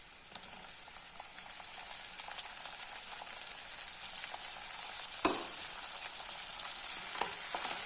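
Onions sauté in a pan for a tomato rice lunchbox dish, with a constant close sizzle broken by occasional spoon scrapes and a sharp tap partway through.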